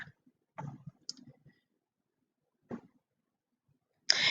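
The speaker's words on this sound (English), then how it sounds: "click on the link, the subject link" A few sharp, quiet mouse clicks on a subject link, isolated taps separated by silence, with a louder burst at the very end.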